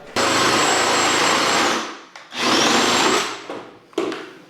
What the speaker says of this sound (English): I then drill a 19mm hole for the pipe to fit through